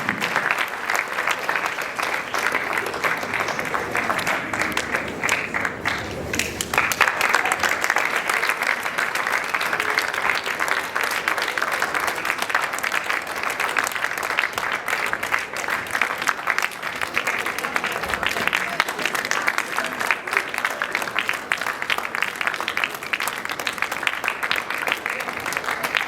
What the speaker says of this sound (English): A round of applause, please, as our council members depart the stage.